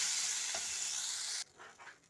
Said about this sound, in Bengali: আমি এবার জল ঢেলে দিচ্ছি